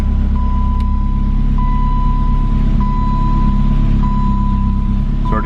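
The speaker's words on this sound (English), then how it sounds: "You can hear the engine change." A BMW E30 M3 with about 169,000 miles idles loudly while warming up after a cold start, a deep even rumble, while a faint repeating beep sounds at regular intervals throughout.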